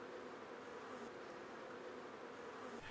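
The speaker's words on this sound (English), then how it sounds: "there's a bee on my left side. It's on my left hand. It's walking up the side of the frame" Honey bees buzz around a beehive frame, a soft, continuous hum with occasional louder passes near the end, moderately faint and with no talking.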